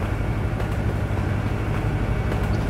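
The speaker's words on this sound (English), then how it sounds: "Oh, that's a train." A train rolls past in the American Truck Simulator video game, a steady, dense low rumble heard from the highway, constant and fairly loud throughout.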